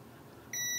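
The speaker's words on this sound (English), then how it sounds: "We should only have a beep on one side." A multimeter gives a steady continuity beep while probing a faulty Nintendo Switch circuit board, a single clear electronic tone starting abruptly after a quiet pause and holding to the end.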